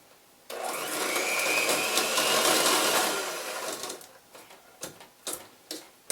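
Electric hand mixer beating sugar into oat bar batter, a steady loud whirring drone for about three seconds that then breaks into short bursts and scraping clatters of the beaters against the bowl.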